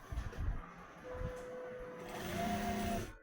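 Sewing machine stitching a Patiala salwar, a steady close mechanical whirr running for about three seconds after a brief start, with faint background voice.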